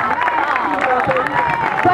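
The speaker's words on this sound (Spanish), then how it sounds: "¡Fuerte el aplauso!" A live audience claps energetically in a crowded room. Quick, brisk clapping mixes with crowd babble, and a voice talks loudly over it throughout.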